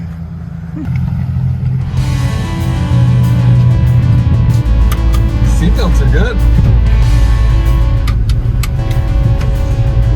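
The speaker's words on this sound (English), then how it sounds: "First time driving the hillbilly truck." An old shop truck idles, then pulls away, its engine running as a steady low rumble from inside the cab. A voice talks briefly over the engine noise.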